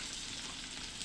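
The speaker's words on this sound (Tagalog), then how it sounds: "Talagang binuhos yung sabaw na pinakuluan." Boiled broth poured into a pan of frying pork steak with onions hisses into a steady, soft sizzle that runs evenly throughout, with no talking over it.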